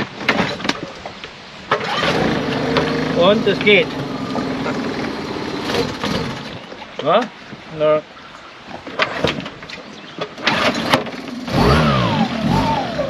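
A Suzuki outboard motor mounted on a Honwave T35 inflatable boat fires up right away after winter storage and settles into a steady mid-pitched running drone, with people talking close by.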